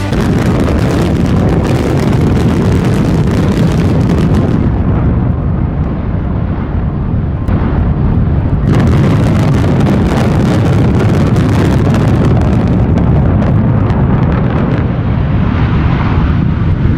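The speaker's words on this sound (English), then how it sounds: "It was New Zealand's first ever building implosion." Explosive implosion demolition of a building, New Zealand's first, heard from a distance as a loud, sustained broadband roar and rumble with wind buffeting the microphone, rising again mid-way as the collapse continues.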